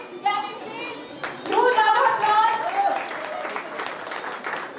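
Audience applause at a children's dance performance during a Maharaja Agrasen Jayanti celebration, a swelling burst of many hands clapping that fades to scattered claps, with a voice speaking over the start.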